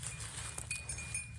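Goats being walked on a farm, with faint clinks and light hoof clatter over a quiet low background, soft and somewhat distant.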